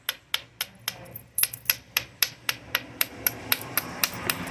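A copper bopper strikes a stone arrowhead blade preform in direct-percussion flint knapping, giving a steady series of about fourteen sharp, close, clicking knocks, each quick and bright, evenly spaced.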